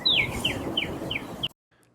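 Voice imitating a bird chirp: a series of five quick, high whistled chirps, the first a sharp downward sweep, close and clear, then a sudden cut to near silence.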